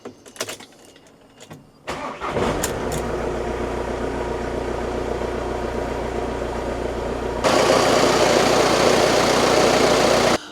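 A car with a newly fitted alternator and a poorly charged battery: a few quiet clicks, then the engine cranks and catches, settling into a steady close idle that swells louder partway through.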